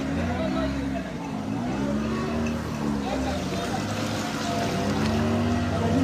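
Boat engine droning on a flooded river in Ndoni, Nigeria, a steady close motor hum with wavering pitch over rushing water, with voices talking over it.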